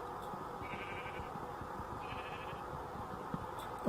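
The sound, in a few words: sheep bleating in Minecraft video game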